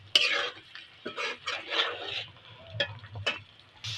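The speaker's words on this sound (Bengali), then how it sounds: "এবার আলু দিয়ে দেবো উপর দিয়ে। আলুটা ভালো করে একটু কষিয়ে নেবো।" Potatoes go into hot spiced oil and are stirred, giving short bursts of frying sizzle and spoon scrapes against the pan, close and moderately quiet, with brief pauses between strokes.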